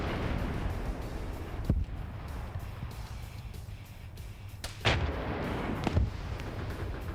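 Booming howitzer shots from D-30 artillery in a military video game, a few heavy thumps spread over several seconds amid a constant rumbling battlefield background.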